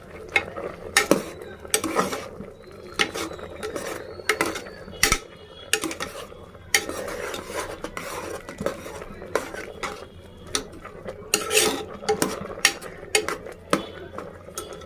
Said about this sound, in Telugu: ఇప్పుడు మనం రుచికి సరిపడా ఉప్పు, పసుపు వేసుకున్నాము. కలపాలి బాగా.